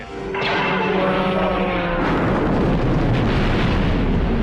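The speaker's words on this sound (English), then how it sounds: "They're just gonna destroy Alderaan?" Planet Alderaan is destroyed by an explosion in a Star Wars film, starting as a swelling roar that bursts into a loud, sustained blast and rumble lasting several seconds, with no talk over it.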